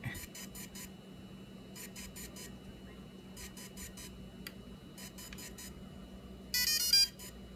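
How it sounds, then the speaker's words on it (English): Quiet electronic beeping from a DJI Phantom 3 or Inspire 1 drone in repeated short clusters of four over a low background hum, ending with a brighter, louder burst of tones. "you're gonna be able to listen to some beep beep beep beep"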